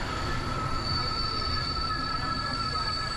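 A passenger train running on the route from Budapest through Ljubljana to Zagreb, its wheels squealing in steady, piercing tones over a constant rolling rumble, heard from inside a carriage.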